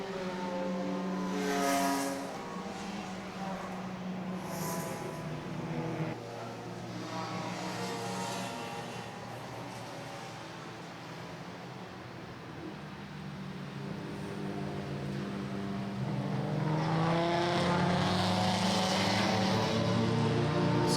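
Baltic Touring Cars and D4 2000 race cars rumble around a circuit on a formation lap, heard from a distance as a continuous layered engine drone that swells and rises toward the end as more cars pass.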